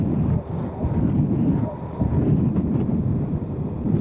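A cool breeze buffets the microphone, making a steady, close, low rumbling roar of wind noise that runs throughout with slight rises and dips.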